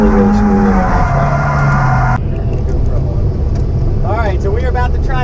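A turbocharged Nissan SR engine running 12 pounds of boost on the stock turbo roars steadily while drifting, then its pitch drops abruptly as the revs change. A voice talks over the engine noise.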